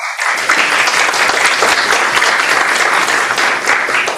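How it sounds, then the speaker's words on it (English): A round of applause fills a room at a community board public hearing and monthly meeting, loud and steady from the first moment to the end, with no voices breaking through. "There was a round of applause in case folks on Zoom didn't hear."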